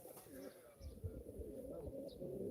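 Several pigeons coo softly and continuously nearby at a live pigeon auction, low murmuring calls overlapping against faint background noise.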